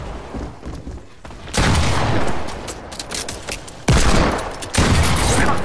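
Rapid gunfire from Fortnite during a scrim match fills the clip in dense, loud sustained bursts, with sprays of shots cut by a short quieter gap and then resuming at full intensity.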